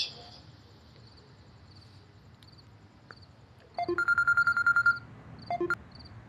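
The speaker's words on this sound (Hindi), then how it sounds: "बग्गे भाई को करती हूँ फोन एक मिनट।" A telephone being dialed to place a call, a quick run of short electronic keypad tones followed by a few more beeps, set against faint background ambience.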